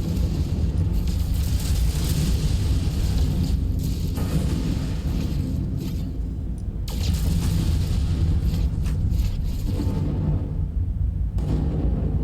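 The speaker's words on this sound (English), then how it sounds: "So there's thunder in space here." Thunder in space: a loud, continuous low rumble with rolling booms that swell and dip throughout, with no talking.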